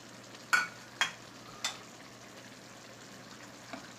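Thick daal mash with green chillies and garam masala being stirred in a pot, three soft scraping strokes about half a second apart over a low steady simmer, then a faint fourth touch.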